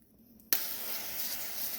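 Cooking spray hisses from an aerosol can in a home kitchen: one steady, close, airy burst that starts abruptly and runs for over a second, alone without talk.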